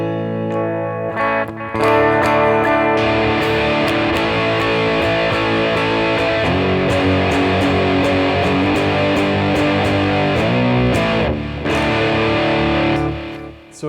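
Walnut Stallion prototype electric guitar played through bridge and P90 pickups, a loud, continuous distorted tone with sustained chords and rhythmic strums, heavy effects and slight reverb, with no talking.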